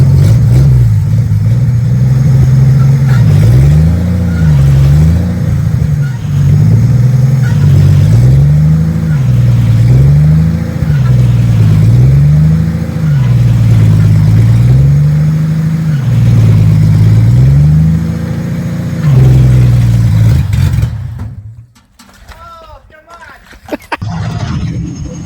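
A 1956 Ford F100 truck engine runs for the first time, loud and close, with rhythmic rises and falls as the throttle is blipped repeatedly, then cuts out abruptly near the end, leaving quieter background noise.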